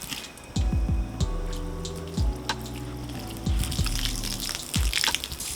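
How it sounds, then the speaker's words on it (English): Water from a hose running onto a car's painted surface during a ceramic coating review, a steady splashing gush broken by bursts and drips, close and alone without talk. "I'm gonna turn the water on."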